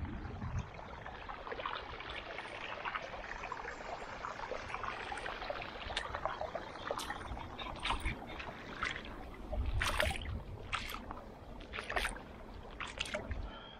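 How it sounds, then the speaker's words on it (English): Water sloshing and splashing steadily as boots wade through a large, deep puddle on a flooded trail, continuous churning with a few louder surges partway through, no talking. "wading through this puddle"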